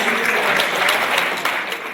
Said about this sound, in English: I need a kind of applause from the industry